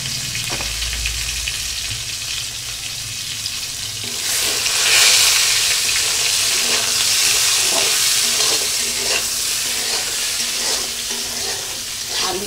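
Boiled Chandramukhi potatoes with salt and turmeric sizzle in hot oil, a steady close frying crackle that swells louder midway, with faint stirring scrapes.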